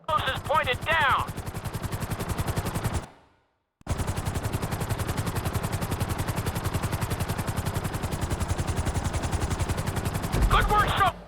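Helicopter in Grand Theft Auto V at full speed gives a dense, rapid rotor chop, loud and close, with a sudden brief dropout partway through. A few chirpy tones sit at the start and end.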